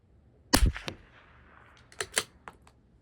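Rifle shots from a CZ 457 LRP or Bergara B14R Carbon rimfire fired at a 200-yard target: a few sharp cracks, one strong shot then fainter follow-up reports spaced across three seconds, close to the microphone.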